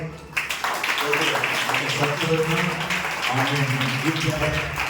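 A church congregation claps together during a sermon, a dense continuous patter that starts abruptly and runs under singing or speaking voices.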